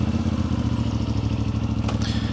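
A 2025 CFMOTO 450MT motorcycle engine runs close by with a steady, pulsing mid-pitched thrum and rhythmic clatter, loud and continuous, with a short sharper knock near the end and no talk.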